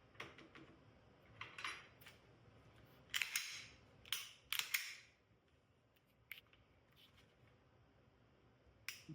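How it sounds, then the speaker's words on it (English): Glock pistol trigger being pulled and reset, giving a series of sharp, close metallic clicks in irregular pairs and clusters over a quiet background. "Watch the reset on this other pistol."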